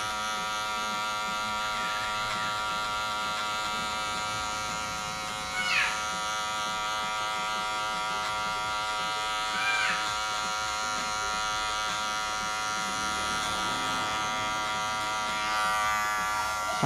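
Electric hair clippers buzz steadily and close up while cutting a high fade on a flat top haircut, their tone shifting slightly as they move across the hair, with quiet background sound.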